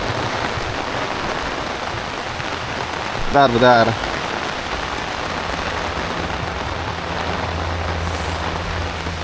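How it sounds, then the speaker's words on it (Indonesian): Heavy rain falls steadily on surfaces outdoors while someone walks through it, a dense continuous hiss with a short spoken word briefly breaking through. "Kita tetap berjalan meskipun hujan deras"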